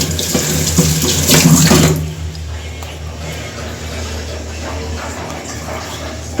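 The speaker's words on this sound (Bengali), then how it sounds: "এটা হলো হাঁসের কলিজা এটা একটু ধুয়ে রাখি" Tap water runs loudly into a sink while duck liver is rinsed, a steady close splashing that stops abruptly after about two seconds, leaving a low background hum.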